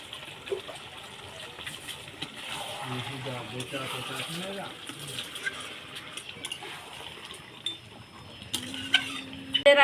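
A large basin crusted with spices from a chicken dish is rinsed under hot running water, with a steady splashing gush and occasional clinks of cookware close by, while a person talks over it.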